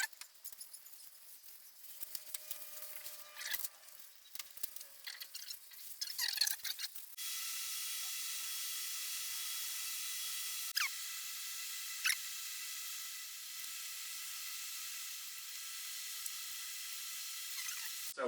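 Duplicolor vinyl and fabric spray paint hisses from an aerosol can onto 1973 VW Bus interior panels, a steady close spray lasting many seconds after some earlier handling clatter and short bursts.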